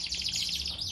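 A canary sings a rapid, bright trill of repeated high chirps, close and clear over a faint low background hum, with no talking.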